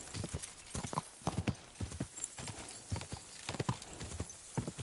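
A horse galloping in Kingdom Come: Deliverance 2, its hooves beating in a quick, steady clip-clop that stays close and clear throughout, with a faint whinny-like tone and no talking.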